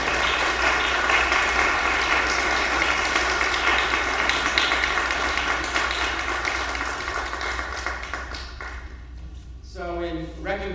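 An audience applauds steadily to welcome Dr. Mancini to the stage at a science symposium. The clapping is dense and loud and fades toward the end as a voice begins to speak.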